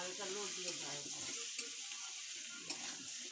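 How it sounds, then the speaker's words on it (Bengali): Ground spices such as chili, turmeric and cumin powder sizzle steadily in a pan with pointed gourd, with occasional scrapes and clinks from stirring. "তারপর মশলাটা দিয়ে এটাকে ভালো করে কষানো হবে।"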